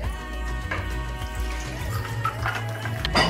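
Liquid pours into a glass as a homemade Nigerian Chapman mocktail is served over ice, a soft, continuous splashing trickle close by.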